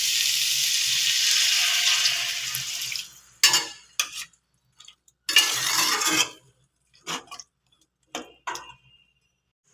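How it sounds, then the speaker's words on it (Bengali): Water pours into a pan of spiced vegetables for Bengali shukto, a steady rushing splash lasting a few seconds, followed by intermittent short clinks and scrapes of utensils against the pan. "এবার আমি একটু জল দেব যাতে সবজিটা সিদ্ধ হয়।"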